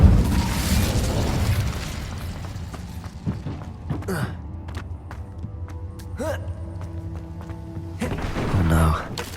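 A fiery Incendio spell cast in the Hogwarts Legacy video game, heard as a booming burst and popping thunks over a low game ambience, with a swelling whoosh near the end.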